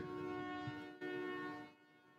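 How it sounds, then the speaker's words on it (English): Horns honk outside at night, a steady sustained blare that cuts off briefly, resumes, then fades, heard faintly at a distance with no talk. "Hearing some honking going on out there."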